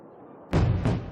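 Two heavy blasts go off in quick succession in an aquamarine mine in Pakistan, each a sudden deep boom with a rumbling tail, the second overlapping the decay of the first after a quiet lead-in.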